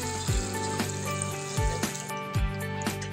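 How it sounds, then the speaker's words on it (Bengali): Water poured into spiced jackfruit and potato frying in a pan, bringing a steady close sizzle with a few sharp bursts of spattering, no voices. "এবার আমি এর মধ্যে পরিমাণ মতো জল দিয়ে দেবো অল্প একটু"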